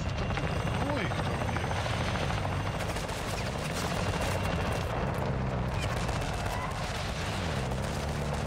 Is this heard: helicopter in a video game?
yes